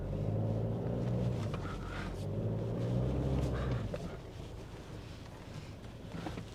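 Toyota Fortuner SUV on an off-road course, rumbling steadily at close range as it drops into a pothole, with a low engine drone and wind buffeting the microphone, easing off toward the end.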